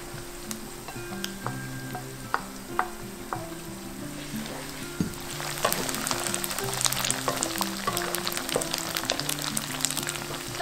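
King oyster mushroom and frozen tofu fry in a pan, a steady close sizzle with crackling pops that grows busier partway through, alone without voices.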